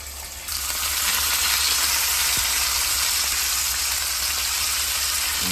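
Meat sizzles on a Ninja GR101 indoor griddle with the lid open, making a loud, steady frying hiss and crackle that lasts throughout with no voices.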